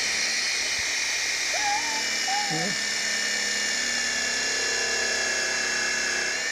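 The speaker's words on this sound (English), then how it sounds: "today I'm helping him drilling holes" A steady high-pitched electric drill whine runs throughout as holes are bored, with a brief voice speaking partway through.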